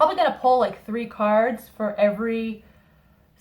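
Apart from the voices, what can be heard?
No everyday noises stand out.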